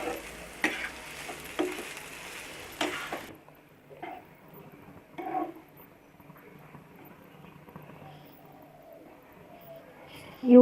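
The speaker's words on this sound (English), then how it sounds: "Now fry it." Fish eggs frying in a pan, Indian style, with a loud steady sizzle and occasional stirring clatter for the first few seconds, then a quieter, sparser crackle with scattered soft knocks.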